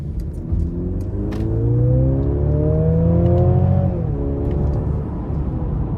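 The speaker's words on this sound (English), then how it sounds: "Just a great sound coming from the powertrain and the exhaust." A 2023 Mercedes-Benz GLC 300 4MATIC SUV engine revs up steadily under throttle, a loud rising growl with exhaust rumble that climbs in pitch for several seconds, then eases slightly.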